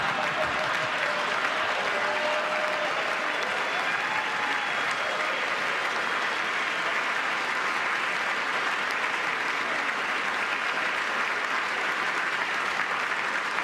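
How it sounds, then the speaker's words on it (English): A live audience applauds, a dense sustained clapping that stays strong and even from start to finish. "Lots of applause there."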